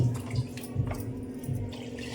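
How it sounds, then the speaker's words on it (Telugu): Water poured into a cooking pot of goat head curry, making low splashing gulps in a few uneven bursts close by. "వాటర్ పోసుకోవాలండి"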